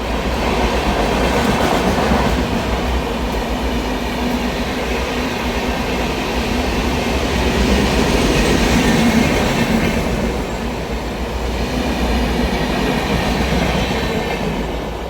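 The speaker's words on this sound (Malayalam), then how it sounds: "Mumbai Lokmanya Tilak Netravati Express is crossing Chalakudi railway station" The Netravati Express from Thiruvananthapuram Central to Mumbai Lokmanya Tilak rolls through Chalakudi railway station with a loud, steady rumble and rhythmic wheel clatter that lasts throughout, close by and without talk.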